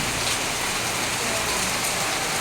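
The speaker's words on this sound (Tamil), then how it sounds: "இப்போ நல்லா போல்ஸாக பெய்யுது பார்த்துடுங்க" Heavy rain falls in a steady, dense, loud hiss, close by and continuous, with no other sounds over it.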